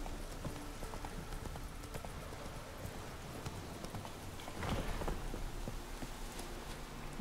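Horse hooves clip-clopping steadily in The Witcher 3: Wild Hunt, a continuous rhythmic trot at moderate distance mixed with soft rain-like ambience, faint overall and with no talking over it.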